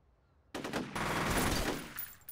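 Rapid gunfire bursts from the F.E.A.R. video game, starting abruptly and sustaining a dense, loud rattle of automatic shots for nearly two seconds.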